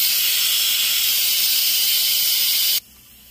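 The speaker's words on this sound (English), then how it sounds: "We'll let the steam out first." Steam hisses loudly and steadily from a pressure cooker holding elk steak and white northern beans as it is vented, then cuts off abruptly near the end.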